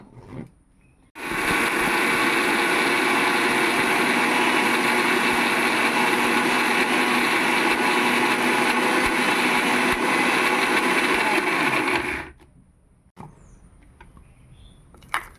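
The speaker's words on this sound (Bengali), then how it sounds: "4টে শুকনো লঙ্কা নিয়েছি আর একটুকু জিরে নিয়েছি। এবার দিয়ে দিলাম, আবার মিক্সিতে বেটে নেব।" A mixer grinder runs steadily for about eleven seconds, grinding four dried red chillies with a little cumin. It starts abruptly, holds a loud, even, high-pitched whine, then cuts off and is followed by quieter handling noise.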